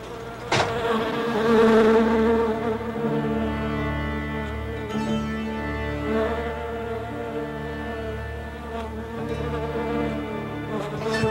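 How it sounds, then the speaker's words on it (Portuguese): Dense, continuous buzzing of hundreds of bees from a beekeeper's hives, a close, loud, droning hum with steady layered tones and no talk. "ele estava criando centenas de abelhas"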